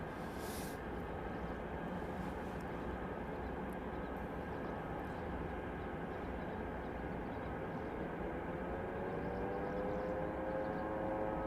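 An Atlas cargo jet at Anchorage airport, a steady droning engine roar with rising whining tones, moderately distant and continuous, with no voices.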